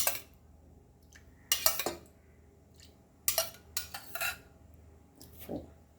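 Pork being mixed with four tablespoons of homemade palm vinegar in a bowl for Goan green pork, heard as a few scattered bursts of a utensil clinking and scraping against the bowl, close and fairly quiet between pauses.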